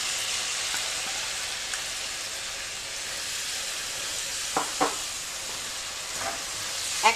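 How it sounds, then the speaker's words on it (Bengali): Vermicelli frying with condensed milk in a hot pan on a stove just switched off, giving a steady soft sizzle and bubbling throughout, with a few sharp clinks of stirring near the end. "আমার এই চুলাটা যেটা গরম আছে সেই হিটেই আমি খানিকটা 3-4 মিনিট একটু ভেজে নিব"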